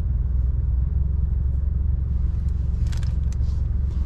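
Road traffic on the drive from Iligan to Cagayan de Oro, a low steady rumble of a car in motion with passing vehicles and brief higher clatters near the end.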